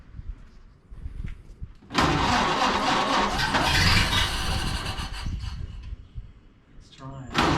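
A 1931 Ford Model A roadster under restoration, with a suspected carburetor fault, cranks and tries to start: a loud grinding churn of about four seconds that fades, with brief voices before it and another short crank at the end.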